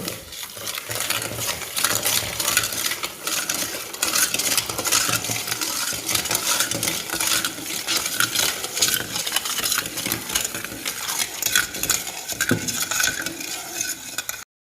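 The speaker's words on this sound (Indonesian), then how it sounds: "kemudian masukkan air sambil diaduk-aduk" A spoon stirs water into a Surabaya layered pudding mixture, giving a steady run of clinks and scrapes against the bowl that continues for about fifteen seconds with no voices.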